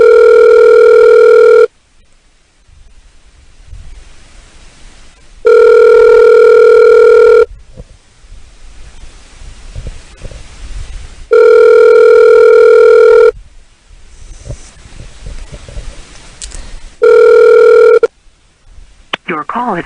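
A telephone ringback tone sounds loud and clear in four evenly spaced bursts of about two seconds each, with quiet line noise and faint background sounds between the rings.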